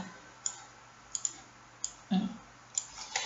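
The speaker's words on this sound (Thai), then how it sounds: "อ่ะคลิกนิวเข้าไป" Mouse clicks in Thai accounting software while a document is created: several soft, isolated clicks spaced irregularly across a quiet room, with one slightly louder low thump partway through.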